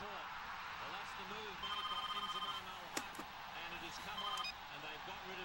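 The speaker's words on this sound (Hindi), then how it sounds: "It is ringing. I can hear it." A telephone rings over a speakerphone in an indoor scene, with repeated electronic ring bursts heard faintly under background talk.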